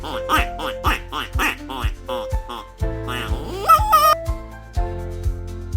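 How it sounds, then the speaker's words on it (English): A duck quacks in a rapid series of nasal, close calls, with a few drawn-out squawks mixed in and soft background music beneath. "duck,"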